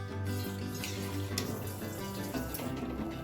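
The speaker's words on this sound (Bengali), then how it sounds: "এবারে দিয়ে দিচ্ছি গরম জলটা" Hot water pours steadily into a pan of fried rice and spices at close range, a continuous rushing, sizzling stream with no voices.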